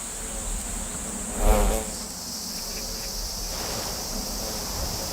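Yellow hornets buzz in an urban setting, a steady insect drone with one louder close pass, over a faint ambient background.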